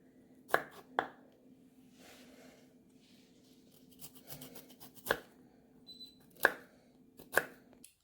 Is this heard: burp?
no